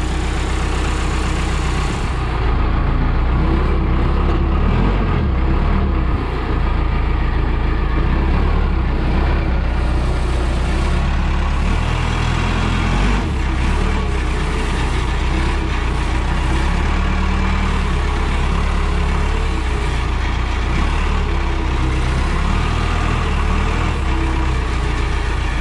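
A Case backhoe's diesel engine runs steadily and loudly throughout, a continuous low rumble with a slight shift as the machine is driven off and into gear; no talk.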